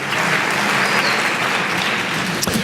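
An audience at a high school honors ceremony applauding, a dense, steady clapping from a large crowd, loud and sustained for a few seconds.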